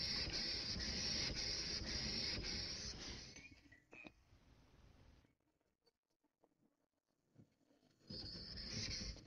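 A steel blade is pushed back and forth over a whetstone with thumb pressure on the bevel, a dense close scraping and rasping that fades out midway, pauses nearly silent, then resumes loudly.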